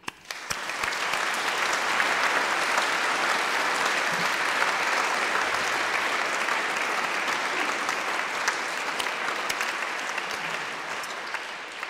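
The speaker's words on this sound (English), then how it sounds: "I would just like to offer them a round of applause" Sustained audience applause at a university graduation ceremony, a dense wash of clapping from many hands that swells quickly and holds steady before tapering slightly at the end.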